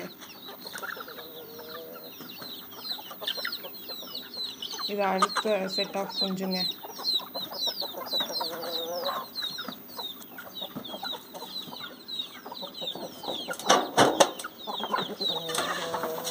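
Country hens cluck repeatedly at close range in a grove with high chirps of chicks scattered throughout, while someone speaks briefly over them and a sharp clatter comes near the end.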